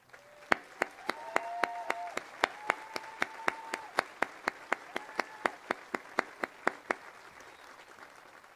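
Sparse, evenly spaced single claps ring out at a Crown Point High School Class of 2020 commencement, a few people clapping slowly in a reverberant space with a faint tonal hum underneath.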